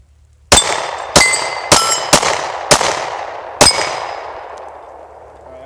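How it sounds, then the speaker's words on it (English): Six 10mm pistol shots ring off steel plate targets at a shooting range, each a sharp metallic clang with a ringing tail, spaced irregularly about half a second to a second apart, loud and without speech. "Alright, I was shooting high on those two on the far right, but not bad."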